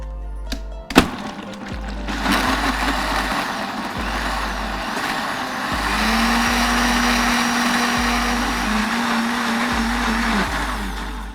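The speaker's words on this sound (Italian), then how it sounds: "Adesso abbiamo messo tutti gli ingredienti dentro il frullatore, bisogna semplicemente frullare." A blender whirs through a smoothie for about nine seconds after a sharp click and a brief start, its loud steady motor drone shifting pitch slightly as the ingredients churn.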